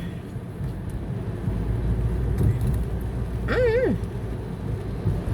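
Car on the road, a steady low engine and tire rumble that swells slightly as it moves along, with a short whining tonal sound partway through and a voice briefly heard.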